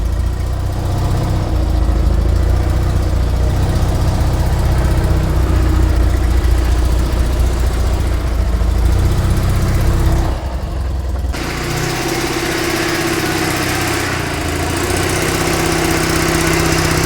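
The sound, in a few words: Invacar engine running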